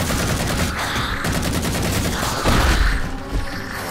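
Rapid automatic gunfire from a weapon in the video game Halo 4, loud and continuous bursts of shots packed tightly together with no pauses, booming slightly near the end.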